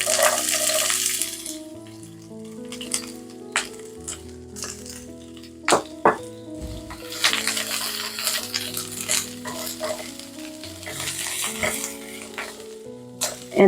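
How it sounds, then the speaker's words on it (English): Onions sizzling in oil in a pan over medium-high heat, a steady close frying hiss with occasional clinks and stirring knocks. "On medium-high heat, I'm just going to add a little bit of oil. And then I'm going to add in the onions."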